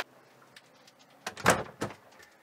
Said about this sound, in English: So I'm going to close the door